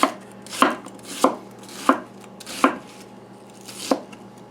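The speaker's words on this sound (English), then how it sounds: "we can leave the onion fairly large, so what we're going to do is just slice in half" A knife cuts through an onion on a cutting board for beef stew, making six crisp, evenly spaced thunks about every half second, close and clear with quiet gaps between and no voices.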